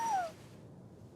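A cat meows once in the video game Genshin Impact, a short, close, falling cry at the start that fades into a quiet game background.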